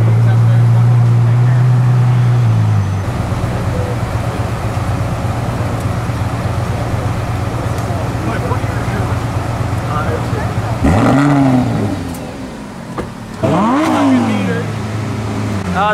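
A black Ferrari F12 sports car engine runs loudly throughout, with a steady rumble and two rising revs near the end, while people talk excitedly over it.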